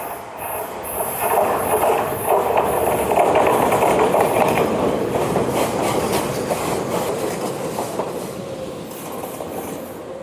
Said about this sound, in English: Oh, it's this train,